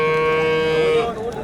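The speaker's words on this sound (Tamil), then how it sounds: "பார்த்திங்கன்னா எல்லாம் கறவை மாடுங்க." Dairy cows at a Tamil Nadu cattle market in Vaniyambadi give a drawn-out, tonal moo over the steady murmur of the crowded market, close and fairly loud.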